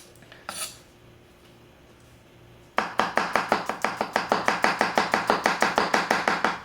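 A Murata 165mm Nakiri knife chops food on a cutting board in a fast, even rhythm of about twenty crisp, close thuds after a brief quiet lead-in with one faint knock.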